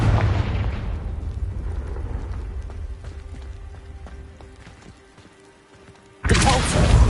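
Loud booming fire-spell blasts from Confringo in the video game Hogwarts Legacy: a heavy roaring burst at the start fades into a quieter rumble, then another sharp explosion erupts near the end.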